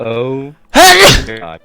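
A single sharp sneeze bursts out close and loud in the middle of a tabletop spellcasting game session, with people talking just before and after it.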